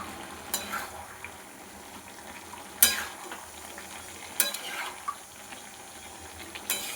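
A spoon stirs green chillies, turmeric, cumin and coriander powder into bottle gourd curry in a pan, with a low sizzle throughout and four sharp scrapes against the metal spaced a few seconds apart.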